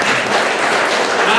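An audience applauding at a lecture, a brief burst of dense clapping that stays even for under two seconds.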